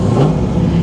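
A 1959 Rambler engine revs up close and loud in a brief, throaty mid-range surge, heard alone.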